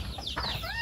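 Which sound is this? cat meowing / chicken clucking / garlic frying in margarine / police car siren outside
chicken clucking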